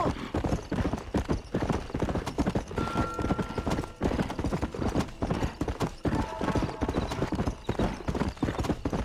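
A horse trots in the Red Dead Redemption video game, with continuous rhythmic hoof clip-clops close up and a faint whinny partway through.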